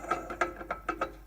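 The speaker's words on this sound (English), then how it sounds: "that clanging noise is that" A 2 hp Bridgeport milling machine with a failing pulley and armature gives off a quick series of about six metallic clanks in an uneven, ratchet-like rhythm against a quiet background.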